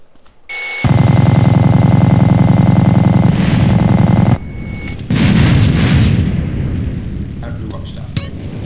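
Explosions in the video game GTA form a loud, dense, crackling roar that lasts several seconds, cuts off, then returns as a second booming blast that fades into rumble and debris.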